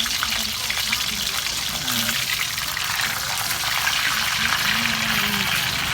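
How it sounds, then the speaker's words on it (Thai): Fish sizzles in hot oil in a home kitchen as a loud, continuous crackle and hiss fills the whole stretch, with a voice talking faintly underneath. "พอน้ำมันเริ่มร้อนแล้วเนี่ยก็เอาปลากลับไปใส่"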